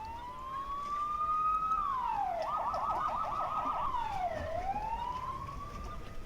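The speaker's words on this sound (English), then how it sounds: "I hear many sirens approaching the motel." A video game police siren wails, rising and falling, then warbles rapidly before sweeping back into a long wail, steady and fairly loud over a low hiss.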